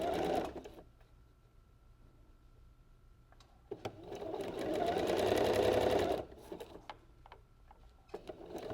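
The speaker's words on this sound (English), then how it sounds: "I'm going to just stitch all the way down here" A sewing machine stitches fabric over a strand of dental floss for gathering, its motor whirring in a steady burst of a few seconds between quieter pauses with light clicks.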